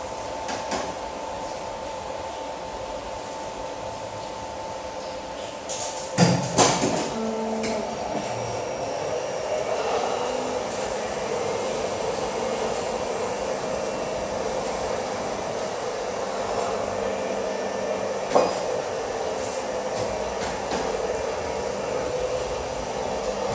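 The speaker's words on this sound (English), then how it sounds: "this is the motor of lift A" Elevator motor of lift A runs in the motor room with a steady droning hum, broken by a couple of sharp mechanical clunks near the start and one later, with no voices.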